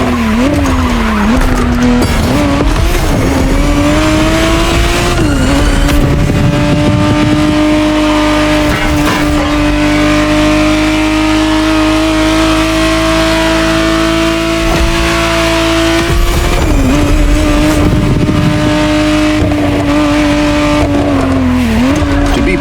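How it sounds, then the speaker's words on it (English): A 1991 Ferrari Testarossa 512 TR in The Crew Motorfest roars steadily at high revs throughout, with tires skidding and squealing in places and the engine note dipping and climbing through the run, loud and close. "the exact model Motorfest has put in your hands is the 1991 re-engineered version of the Testarossa, introduced as the 512 TR"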